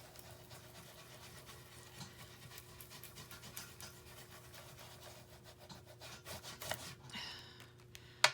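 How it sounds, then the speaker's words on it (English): A fingertip rubs Distress Micro Glaze into a foam applicator, a soft, faint, steady scuffing close by that grows a little busier toward the end with a brief louder bump, no speech. "you're going to put a little bit on the foamy part and rub it in"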